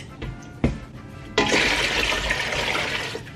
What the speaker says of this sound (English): in our pot, we are doing 6 cups of water